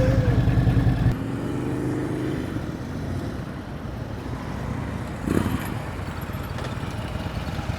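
A motorcycle engine idles and putters at low revs during slow-speed riding practice in a North Carolina session, with a brief throttle blip early on, then a steady low drone and one short louder rise.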